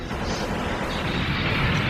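Cannon fire from emplacements in ZOIDS Battle Legends, a dense, continuous barrage of booming blasts with no clear gaps, loud and close throughout.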